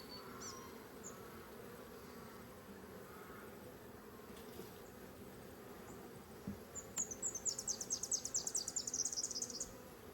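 Honey bees hum in a low, steady drone at an opened hive, with a few brief higher buzzes near the end as single bees pass close.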